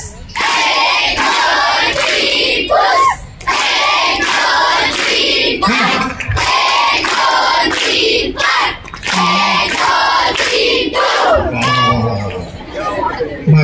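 Children in a classroom or group setting perform a rhythmic firecracker clapping game, with repeated loud bursts of clapping and shouting voices, a lively crowd of kids chattering and cheering throughout.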